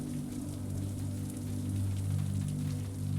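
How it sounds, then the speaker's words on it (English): Steady rain pelts against windows, a dense continuous patter with a low hum beneath it, even and unbroken throughout with no voices. "The rain pelts on the windows"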